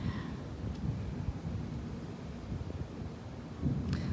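Low rumbling thunder from lightning strikes at a beach, a continuous deep roll heard outdoors with wind buffeting the microphone and a brief rustle near the end.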